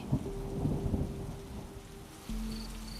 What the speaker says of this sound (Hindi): बारिश की बूंदें टीन की छत पर टप टप गिर रही थीं।